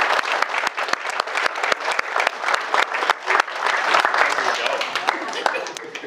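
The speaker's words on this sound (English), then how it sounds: "So please give yourselves a round of applause." Wedding guests clap and cheer at a spiritual ceremony in the Portmarnock Hotel, a dense, sustained round of applause with sharp individual claps standing out, steady and loud for several seconds.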